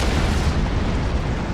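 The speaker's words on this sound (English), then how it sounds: "Detonating charges." Explosive charges detonate in Star Trek Online, a dense, continuous roar of heavy blast noise, loud and close, filling the whole moment without letup.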